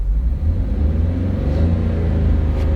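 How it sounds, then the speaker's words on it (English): A car engine revs hard to wide open throttle during a crankshaft position variation relearn in a repair shop, a loud, continuous, close rumbling roar with no talk. "So we start her up, accelerate to wide open throttle,"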